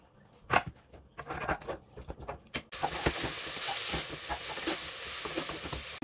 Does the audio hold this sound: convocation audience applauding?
no